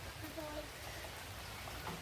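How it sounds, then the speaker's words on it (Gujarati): Steady morning rain after a cyclone in a village keeps up a faint, even hiss from a distance throughout. "અત્યારે વરસાદ ચાલુ જ છે સવાર સવારમાં"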